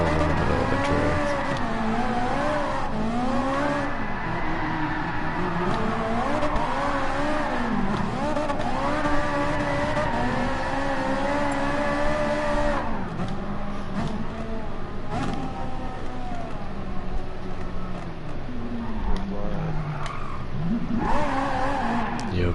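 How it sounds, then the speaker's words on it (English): Racing video game car drifting, with sustained wavering engine revs and tire squeal running continuously, loud and close, shifting pitch as the car slides through corners. "So I'm in the middle of the drift."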